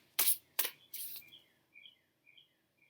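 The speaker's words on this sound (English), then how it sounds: "there's a cardinal just singing their ass off out there." A northern cardinal whistles short clear phrases outdoors, faint and distant, following a few loud nearby rustling or clicking noises.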